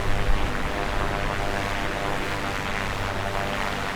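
Steady propeller aircraft engine drone from a VR flight simulator on a motion rig with a haptic seat, flying near Little Rock; a continuous, even hum with low rumble, holding at constant loudness throughout, no voices.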